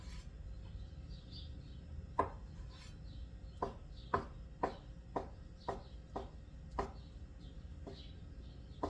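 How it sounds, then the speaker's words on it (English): Knife slicing through quartered hard-boiled eggs on a board, about ten sharp, evenly spaced taps and cuts, close and fairly quiet, with no talking. "Quartering my eggs and just slicing them up."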